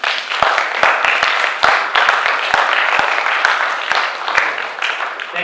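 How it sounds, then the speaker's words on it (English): Round of applause from a modest audience at a finance workshop, individual sharp claps standing out in an uneven, moderately dense patter that carries on for several seconds. "let's give them a round of applause again"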